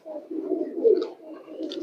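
Female Bagha pigeon cooing in a loft of Bagha pigeons, a low rolling coo that swells and dips over about two seconds, fairly close, with a soft higher chirp near the end.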